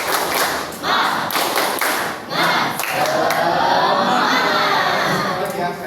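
Eighth-grade students in a classroom perform a rhythmic clapping chant together, with sharp clap bursts and thuds alternating with shouted children's voices and cheering, loud and close.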